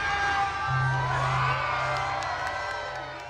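A crowd cheers and whoops at the lighting of the San Juan Christmas tree in front of City Hall, a loud sustained roar of shouting voices that slowly fades, with a low tone and music underneath.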